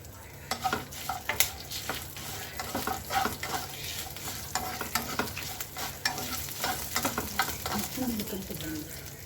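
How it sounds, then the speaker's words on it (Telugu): Curry leaves and garlic fry in hot oil in a pan while a spoon stirs them, giving a steady, close sizzle broken by frequent scraping and clinking strokes. No one speaks. "కొంచెం వెల్లుల్లిపాయలు కూడా వేసుకొని వేగనిద్దాం."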